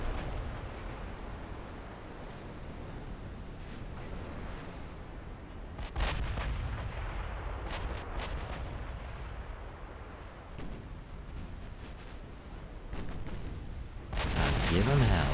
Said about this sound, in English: So open up the guns.